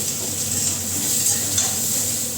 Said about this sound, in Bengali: আলু আর ফুলকপিটা আগে একটু ভেজে নিচ্ছি